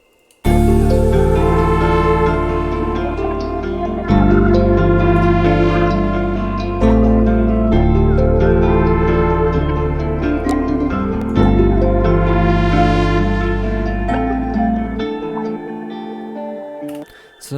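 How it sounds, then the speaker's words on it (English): An unleveled beat melody mix built in FL Studio with stock plugins plays loud and continuous, layered guitar-led chords changing every few seconds over a heavy low end, then cuts out near the end. "So the whole melody together without actually leveling sounds like this."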